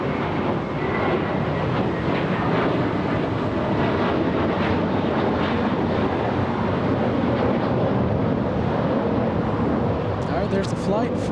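An airliner arriving at LAX from Tokyo Narita gives a loud, continuous broadband jet roar, steady throughout, heard outdoors and heavily buffeted by wind on the microphone.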